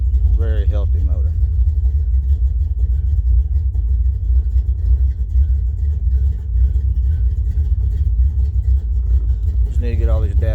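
A car engine with very good oil pressure and every dash warning light on idles steadily and loudly through the whole stretch, a constant low rumble, with brief bursts of a voice near the start and end.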